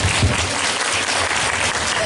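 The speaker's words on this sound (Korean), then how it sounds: "박수 한번 부탁드릴게요." Dense audience applause at a film festival screening event, loud and steady clapping from a large crowd throughout the short stretch.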